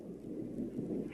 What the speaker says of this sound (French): Il va pleuvoir, non? C'est le tonnerre.